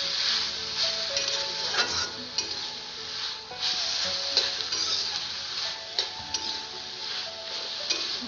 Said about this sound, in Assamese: আৰু এইখিনি মই ভালদৰে লৰাই দিছোঁ।